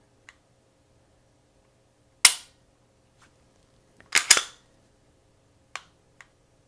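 Dry-firing a Walther PDP pistol gives a few sharp, isolated mechanical clicks of the trigger breaking and resetting, close and crisp, with quiet gaps between them.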